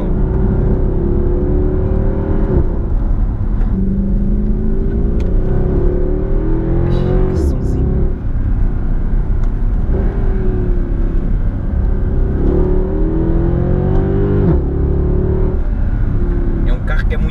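Mercedes C63 AMG with a 6.3 V8 heard from inside the cabin, droning loud and close with repeated surges as it accelerates and shifts, the roar rising and falling through several gear changes.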